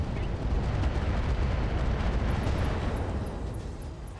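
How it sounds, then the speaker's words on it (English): Dense, rumbling bursts of gunfire and explosions in the game RogueTech roll on continuously, heavy and booming throughout, with no clear voices. "Okay, explosion contained there."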